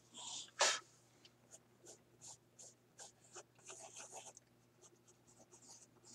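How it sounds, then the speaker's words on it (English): Eraser rubbing across paper on a drawing, a series of short scratchy strokes in uneven rhythm, close and fairly quiet over a low steady hum, with one louder sharp burst near the start. "let's erase the trash bin"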